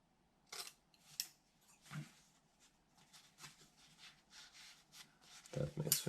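Scissors snip into fabric in a few places to release tension. The quiet, separate crisp cuts are scattered over a few seconds, with a louder, closer snip at the end.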